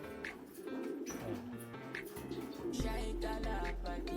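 A racing pigeon hen coos in a low, repeating rhythm, close and fairly loud, with soft rustling and background sounds throughout.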